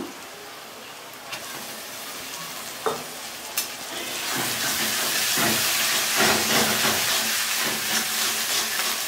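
Spices stirred and fried with browned onions in hot oil for a duck curry: a soft sizzle with a few sharp utensil knocks, swelling into a louder, steady frying hiss with scraping stirs.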